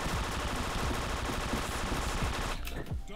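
Dense, rapid automatic gunfire from a Wolfteam shooter, loud and continuous bursts with no talk, cutting off sharply near the end.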